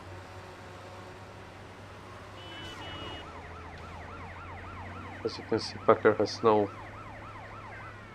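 Wailing police car sirens in GTA Vice City rise and fall over a low hum, with a sharper burst of siren yelps near the end, while someone talks over them.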